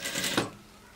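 A sewing machine stitching a blouse seam: a brief burst of fast, close mechanical rattling that stops abruptly, leaving quiet room tone.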